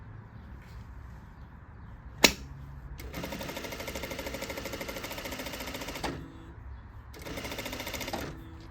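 A sewing machine stitches a pocket in two bursts of rapid, even needle chatter, about three seconds then a shorter run, separated by pauses with a sharp click between as the presser foot is lifted at a corner.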